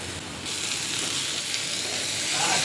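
A spiced masala with poppy-seed and mustard paste sizzles steadily in a pan, a continuous close frying hiss that grows slightly louder toward the end, with no talking.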